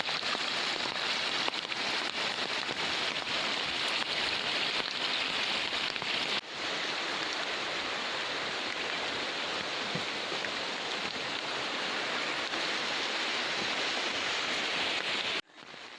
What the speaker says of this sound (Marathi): तुम्ही हे बघताय ते शेतात घुसलेलं पाणी त्यालासुद्धा खूप स्पीड आहे ही वाहतुळी किती फास्ट वाहते ते बघा